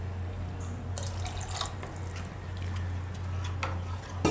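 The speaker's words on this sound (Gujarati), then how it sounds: "આપણે થોડુંક પાણી હજી નાખીએ" Water is poured into a cooking pan of simmering dahi papdi gathiya curry. A few drips and small splashes fall over a steady, low kitchen hum.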